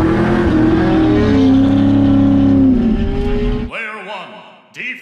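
A Porsche GT3 drag racing an LS3 V8-swapped Chevy C10, with a loud, near engine roar whose pitch climbs and holds, then cuts off abruptly into brief faint engine sounds.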